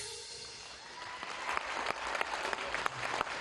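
Concert audience applauding a singer at a Chechen solo concert in Grozny, a dense wash of many hands clapping with sharper individual claps standing out, steady and fairly near, no voices over it.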